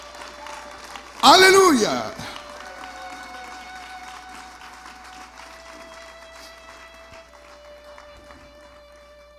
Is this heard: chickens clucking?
no